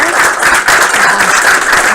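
A brief, loud burst of group applause at a game job fair gathering, dense clapping with faint voices mixed underneath.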